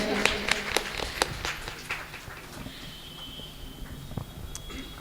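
Scattered audience clapping at a Bhagwat Katha religious gathering, a loose patter of claps that thins out toward the end, with faint background murmur.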